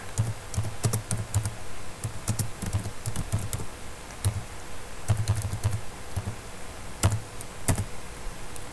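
Fingers type steady strings of commands on a computer keyboard while configuring Cisco network devices, the keys clattering close and continuous with uneven bursts and brief pauses over a faint background hum.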